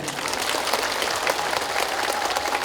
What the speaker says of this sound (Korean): 박수 한번 다시 보내시고